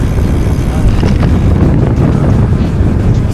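Steady, heavy wind buffeting the microphone while riding a road bike, a continuous low roar throughout with no clear pauses.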